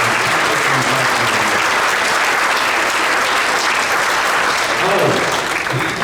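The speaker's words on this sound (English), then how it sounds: "So one big round of applause before I keep going." Full, loud applause from an audience at a middle school band concert, continuous and dense for the whole stretch, with faint voices and a brief whoop buried in the clapping.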